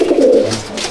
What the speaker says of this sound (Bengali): আর এটা অন্ধার পায়রা